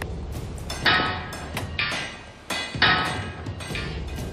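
A riveting crew hammers home rivets, giving a handful of loud, ringing metallic strikes spaced roughly a second apart, with no talk.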